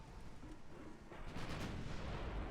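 Naval guns firing high explosive shells in the Ultimate Admiral Dreadnoughts warship game, heard as a muffled, steady rumble of distant gunfire that swells louder midway and stays dense to the end.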